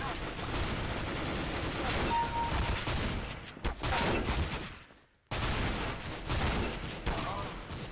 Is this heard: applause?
no